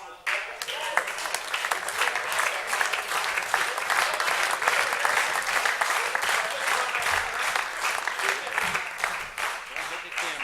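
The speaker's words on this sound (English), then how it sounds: "Keep the applause" An audience claps continuously and loudly, a dense sustained wash of applause running the whole stretch, with a brief voice at the start.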